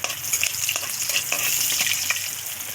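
Chillies fry in hot oil in a pan, producing a close, continuous sizzle with light stirring scrapes over a few seconds and nobody speaking.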